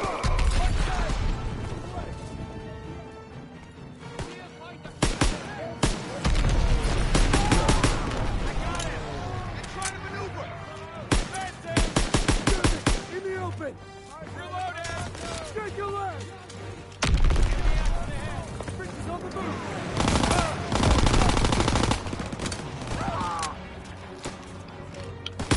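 Call of Duty WWII battle with machine gun fire, dense bursts of gunfire and explosive booms swelling and fading over a noisy backdrop, with voices talking over parts of it.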